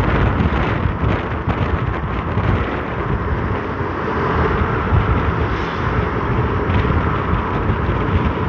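Loud, steady roaring wind buffets the microphone throughout, a dense continuous rush with no pauses, on a motorcycle route from Taguig to Makati City Hall via Kalayaan Flyover, Philippines.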